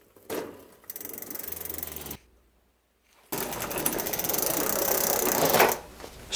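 A Shimano Tourney rear derailleur moves a bicycle chain across the gears as the cranks turn, giving close, steady mechanical clicking and chain whirring that stops for about a second before a longer whirring run.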